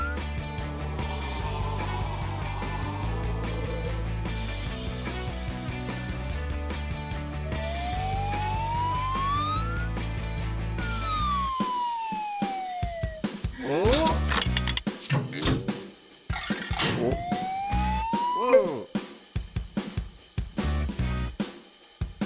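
A cartoonish ambulance siren with rising and falling wails over bouncy music, followed by clattering mechanical clicks and whooshes as a cartoon truck transforms into an ambulance; loud and close throughout.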